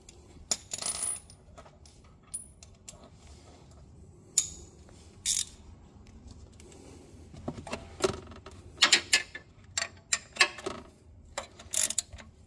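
A socket wrench tightens a bolt on a 1999–2005 Miata supercharger kit, producing bursts of quick metallic ratcheting clicks and taps, close and irregular, with quieter pauses between.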